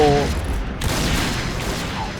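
Gunfire in a shooter video game: a dense burst of muffled shots and booms fills the short stretch, with a player's voice talking over the action.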